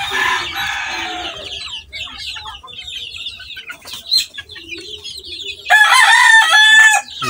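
Chickens cluck steadily while a rooster crows loudly near the end, a harmonic call rising over the flock's chatter in a farmyard.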